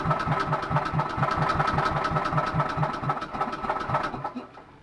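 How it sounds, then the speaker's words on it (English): A small engine pull-started and running on charcoal gas from a gasifier, chugging with a steady, rapid knocking beat at close range throughout, fading slightly at the end. "Let's open the gas valve again and half a turn of air for now and pull the ropey thing."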